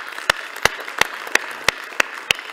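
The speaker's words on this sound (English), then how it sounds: "Give them a big applause" Evenly spaced, sharp claps at a world leaders' forum panel session ring out seven times at a steady measured beat over quiet room tone.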